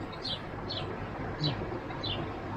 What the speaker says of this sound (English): We've got a bird in the tree next to us chirping away. It's a little sparrow.